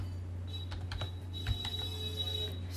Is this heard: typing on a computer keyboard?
yes